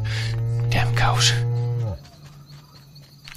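A single long cow moo from the PC game Sacred sounds loud and close for about two seconds, then breaks off into quiet background ambience.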